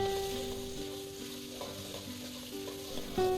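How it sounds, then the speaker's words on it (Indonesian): Ground spice paste sautéed in hot oil in a wok for Javanese vegetable stew, sizzling and frying steadily while stirred, close and continuous with no talking. "Tumis-tumis bumbu hingga layu dan juga matang."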